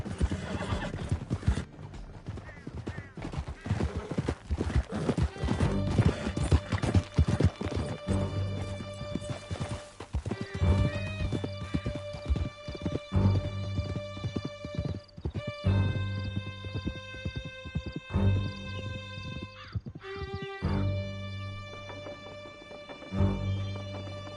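A horse gallops in Red Dead Redemption 2 with a rapid run of hoofbeats, whinnies and neighs cutting in, and a tonal musical score playing underneath.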